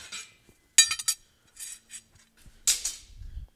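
A tack-welded steel part of a truck headache rack main frame is knocked loose, giving a few sharp metallic clinks and taps in quick irregular succession, close and clear against near silence.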